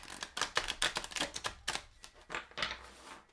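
Tarot cards being shuffled by hand, a quick series of crisp riffling and slapping bursts about a quarter second apart, close and fairly loud, with no talk.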